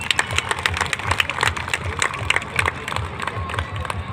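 Audience applause at a police family cultural performance held by a special armed force battalion, a dense, sustained wash of clapping from a large crowd filling the room, steady and fairly loud throughout.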